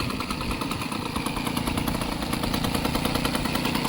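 A restored 1992 TVS Express 35 moped engine runs steadily after being pedal-started, a close, loud and continuous buzzing two-stroke putter with no talking.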